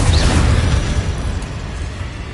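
An Incendio fire spell cast in Hogwarts Legacy, giving a loud whooshing, roaring burst of flame that starts strong and slowly dies away, with no talking.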